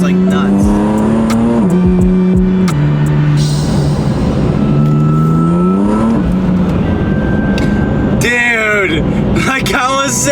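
A stock BMW M4 accelerates hard with rising engine revs through several gear changes, loud and close from inside the car, with voices talking over the engine.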